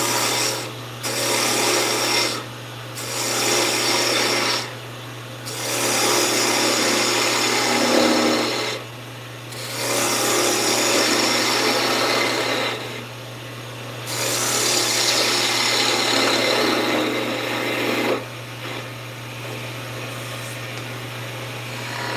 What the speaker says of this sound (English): I'm gonna use my bowl gouge because this is so wet.